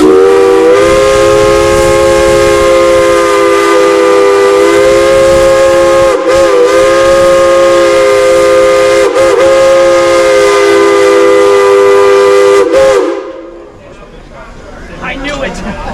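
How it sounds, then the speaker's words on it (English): A steam locomotive whistle blows one long, loud, sustained chord with a few brief dips, then cuts off abruptly, leaving quiet background noise. "That's the whistle for the locomotive that's being"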